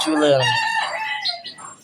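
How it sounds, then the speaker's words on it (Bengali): A pet chicken clucking loudly and close by, a dense run of harsh, rasping calls across the whole moment with no one speaking over it. "দেখো কি খায় আমাদের মুরগি, এটা আচ্ছা আমাদের মুরগি"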